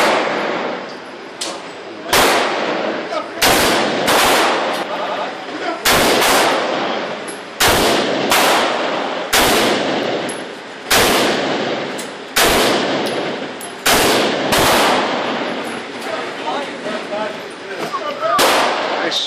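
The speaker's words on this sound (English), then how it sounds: "Nice sounding shots, anyways." A Benelli M4 Super 90 shotgun or an IMI Tavor TAR-21 rifle is fired outdoors: about fifteen loud, sharp reports come at an uneven pace, each ringing out briefly before the next, with a voice heard faintly between shots.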